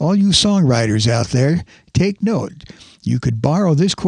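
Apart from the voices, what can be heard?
None of the usual background noises is heard.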